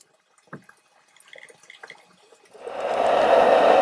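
Water flows steadily over a small beaver dam on a paddling trip, rising suddenly after a few quiet seconds of faint drips and small knocks into a close, constant gurgling rush.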